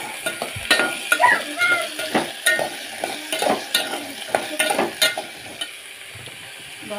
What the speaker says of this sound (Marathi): अशी मस्तपैकी तेलात फ्राय करून घ्यायची.